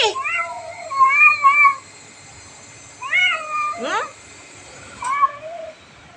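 A cat lets out several drawn-out, wavering yowls in bursts separated by pauses, loud and close, like an agitated caterwaul.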